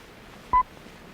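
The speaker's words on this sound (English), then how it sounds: "Start your stopwatch precisely when you see the dot and hear the tone." A short, clean electronic beep serving as a timing tone in an educational physics film, a single brief tone over faint background hiss.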